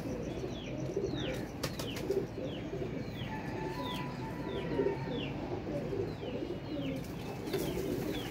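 Long-feathered flying pigeons at a loft give soft cooing among a steady chatter of chirping birds, with brief wing flaps breaking through now and then over constant background noise.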